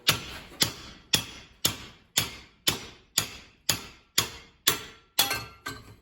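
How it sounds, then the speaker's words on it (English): A hammer strikes the shaft of a Toro roller to drive it through, eleven evenly spaced metallic blows about half a second apart, each ringing briefly, loud and close. "Look out, Greg, we're just going to hit the shaft through."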